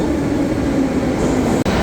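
A metro train in a Tashkent subway rumbling along the tracks, its steady loud low roar filling the space with a brief dropout near the end, no voices heard.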